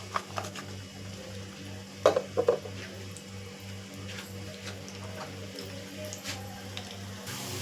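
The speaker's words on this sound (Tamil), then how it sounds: "இப்போ வெங்காயத்தை போட்டுக்கலாம்." Onions sizzle softly in hot oil, a steady crackling fry with a few clinks of a spoon stirring the pan and a low rhythmic hum beneath.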